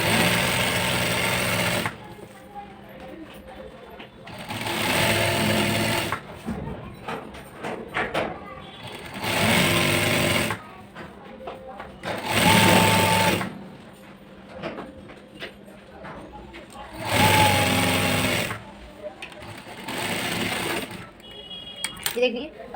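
A sewing machine runs in repeated bursts while stitching the side seams of a palazzo, joining the panels top to bottom, with pauses between runs and someone talking over the work.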